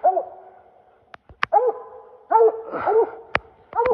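A raccoon hunting dog barks repeatedly up close, loud bawling bays in short clusters separated by pauses, with a few sharp clicks or knocks in between.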